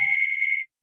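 A phone rings with a single steady electronic tone held for just over half a second before it cuts off abruptly into silence.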